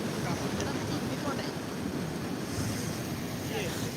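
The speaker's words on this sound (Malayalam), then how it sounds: "നല്ല വിശാലമായ കാറ്റ് നമുക്ക് കിട്ടിക്കൊണ്ടിരിക്കുന്നു" Constant roaring wind buffeting the microphone over rushing sea and waves, loud and unbroken for the whole stretch.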